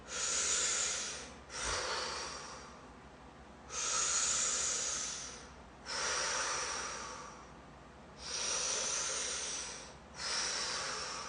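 A person's deep breathing during a seated fascial stretch: about five loud, airy inhale-exhale cycles, close and steady, with short pauses between them and no talking.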